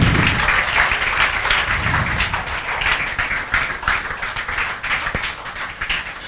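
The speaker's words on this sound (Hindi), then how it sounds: "वेदांत शर्मा के लिए जोरदार तालियां" A classroom of students applauding a classmate, a continuous dense patter of many hands clapping at once, steady and fairly loud throughout with no speech over it.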